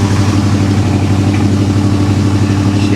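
A 1974 Chevy El Camino with a 327 V8 idling rich, a loud, steady low rumble close to the car, alone with no talk or revving.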